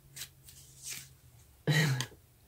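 Tarot cards being shuffled and drawn during a reading, with soft brushing riffles followed by one louder, sudden card slap, close to the microphone and without speech.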